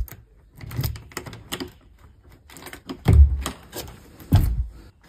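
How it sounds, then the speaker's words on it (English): A campsite shower room door is unlocked and opened, giving a series of clicks and rattles from the key and handle, then a couple of heavy close thuds as the door swings. "Just open the door up."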